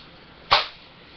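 A single sharp, close crack comes from a Cx4 Storm BB gun firing once, heard alone against a quiet background.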